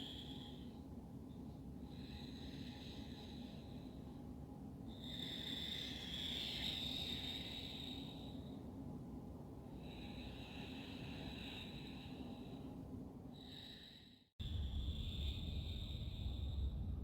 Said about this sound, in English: Slightly constrict the back of your throat, making a hissing sound, wave-like sound as you breathe in and out through the nose